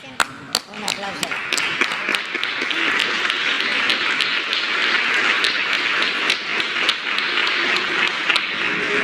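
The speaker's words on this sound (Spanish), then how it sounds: "Un aplauso" Applause from a crowd at a Mexican government press conference, a dense steady wash of clapping with a few sharp individual claps standing out, under a speaking voice.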